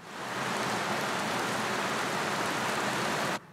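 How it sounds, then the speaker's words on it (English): Rain sound effect triggered by touching a printed interactive surface: steady, dense hiss of falling rain, loud and unbroken for over three seconds before cutting off abruptly. "Rain."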